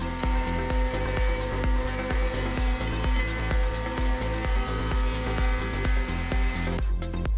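A router fitted with a 1/8 inch roundover bit rounds the outside edges of a wooden mason jar candle holder, its high steady whine close and loud, with rhythmic thumping pulses from the cut repeating about twice a second, no talk.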